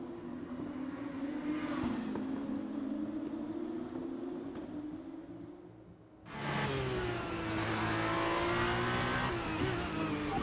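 F1 race car in F1 23 leaving on brand new tyres: a steady loud engine drone rising in pitch, a brief dip near six seconds, then a harsher, brighter full-throttle roar with layered revving harmonics.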